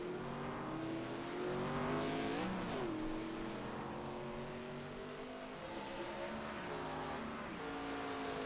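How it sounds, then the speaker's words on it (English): ARCA race cars brake hard into a hairpin on a wine-country road course, one loud engine droning continuously with its pitch stepping down through downshifts, then climbing again on the exit. "heavy braking zone for them. Get that car slowed down, good around the hairpin."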